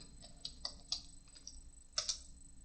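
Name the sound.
typing a search on a computer keyboard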